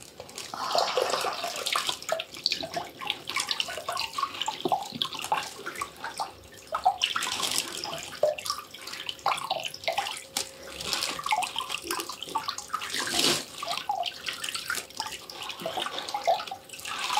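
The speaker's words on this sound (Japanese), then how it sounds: "片足ずつ流していきます。" Water poured and splashed over feet, one foot at a time, during a detox foot soak at a Tokyo treatment session, a steady close running-water rinse with small splashes throughout, no talk.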